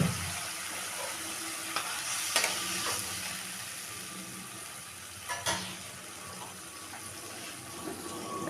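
Boal fish frying in a pan with a soft, steady sizzle and watery hiss as a little water goes in, with a couple of brief clatters of utensils against the pan.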